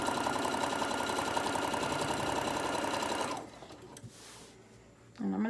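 Sewing machine stitching a fabric mat, a loud close steady rapid whir running for about three seconds before stopping, followed by quieter handling sounds and a brief start of a voice at the end.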